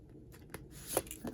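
A new, slippery tarot deck being shuffled, with a few soft, brief rustling card flicks close by at low volume.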